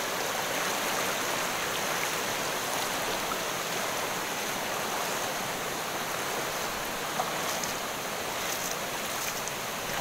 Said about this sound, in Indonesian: ini batu-batu sangat licin dan arusnya begitu deras